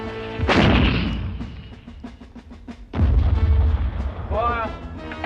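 Heavy artillery fire and bomb explosions from a World War One trench battle scene, with a loud boom and rumbling decay, then a second deep blast with rolling low rumble, followed by a whistling shell.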